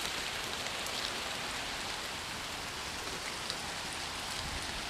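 Steady rain pouring down in a forest on a wet, messy day, a dense, even hiss of drops on leaves and ground, close and constant with no voices.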